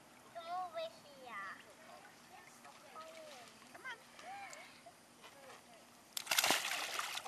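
Near the end, a child jumps into the water with one sudden loud splash and a short wash of water. Before that, kids and adults chatter quietly.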